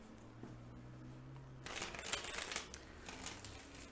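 A quiet hum, then a close, crisp burst of cards being riffled and shuffled for a couple of seconds.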